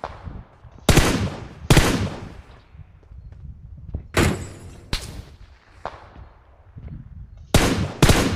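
Sharp video game gunshots ring out in separate bursts, several loud cracks spaced irregularly with quieter rumbling between them, and no talking over them.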